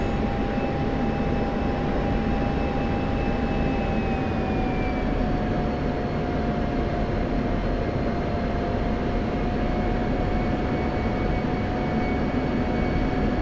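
An F-16 military jet arrives at an airport in a flight simulation game, giving a steady, loud engine roar with a thin whine that holds level throughout, with no one talking.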